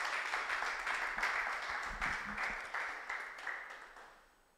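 Audience applause welcoming the executive director at a stakeholder dialogue event on the future of work, steady rhythmic clapping that gradually fades out, with no talk over it.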